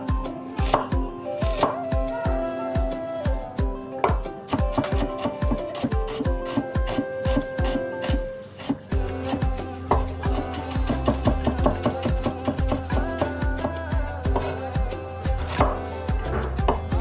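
Onions being chopped with a knife on a board in a home kitchen, fast rhythmic knocks in long runs, close and loud, with a brief pause midway before the chopping resumes.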